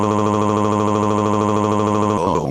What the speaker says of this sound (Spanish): Un sonido agudo comenzó a sonar en los alrededores. Una alarma de terremoto espacial.